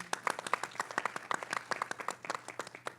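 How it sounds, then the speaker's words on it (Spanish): A small group claps at a film press conference, with distinct, fairly close hand claps in a quick, uneven rhythm filling the whole moment. "pero un aplauso, por favor"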